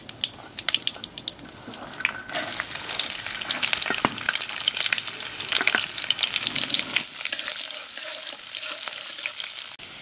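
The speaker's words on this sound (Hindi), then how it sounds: "अब यहीं पे हम लहसुन और मिर्च डाल देंगे।" Garlic and chili sizzle loudly in a cumin tempering for a ridge gourd and chickpea curry, a steady close crackle with occasional stirring clatter, easing slightly toward the end.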